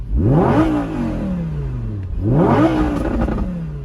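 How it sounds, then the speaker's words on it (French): An Audi R8 V10 Spyder engine revs hard twice, each pitch rising sharply then falling away, loud and close. "Tu fais une accel, écoutez-moi ça. Ça gueule et tout"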